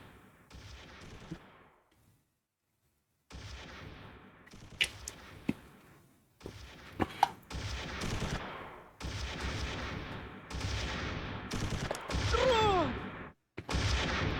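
Close Combat III war game battle gunfire, repeated bursts of rifle and machine-gun shots with sharp cracks and whizzing rounds, loud and near, separated by brief silences.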